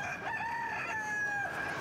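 A Maharani rooster crows twice in a row, each call a drawn-out, wavering cock-a-doodle-doo that rings clearly and fairly close, with no voices around it.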